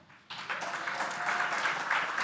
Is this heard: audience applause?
yes